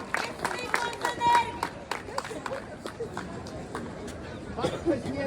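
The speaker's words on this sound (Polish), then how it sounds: "Brawa dla pana, brawa." Crowd applause during a charity auction at an outdoor concert in Zamość's main market square: scattered clapping and cheering beneath an announcer talking over a PA, with crowd chatter throughout and a fairly loud, reverberant open-air feel.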